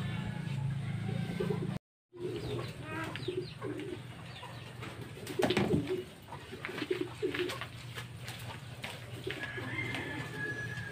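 Racing pigeons cooing in low, soft rolling calls against a steady background hum at Caticlan Port, with brief rustling and a short gap of silence early on.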